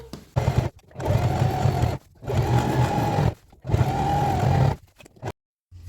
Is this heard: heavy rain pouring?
no